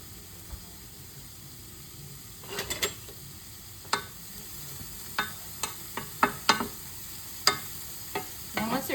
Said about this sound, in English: Let's saute these up.